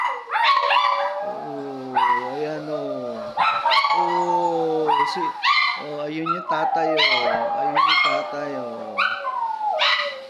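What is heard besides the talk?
dogs howling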